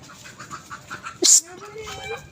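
A chicken being caught clucks and squawks sharply once, with softer clucking around it and a person's voice in the background, close by.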